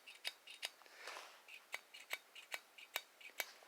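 Small metallic clicks and light scraping taps of a Taurus G2C pistol's firing pin block moving repeat unevenly at close range, quiet and dry with no voices.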